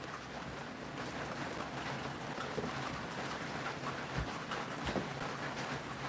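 Rain falling outside on a rainy day during a wood slab preservation project: a steady, dense hiss with occasional louder drips, continuous throughout with no talking.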